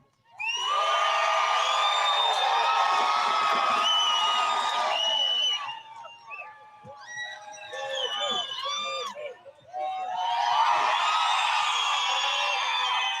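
A crowd at a Tombstone, Arizona shootout show cheers, whoops and shouts in two long loud bursts, with children's voices among them. A quieter gap of scattered voices and calls sits between the bursts.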